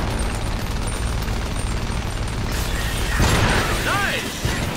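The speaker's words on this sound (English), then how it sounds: "Let's reload real quick here while we can't shoot anyway." Mechanical weapon reloading clanks and ratchets in the mech game Iron Brigade, under a loud steady battle rumble, followed by a burst and whooshing pops near the end, with a voice talking faintly.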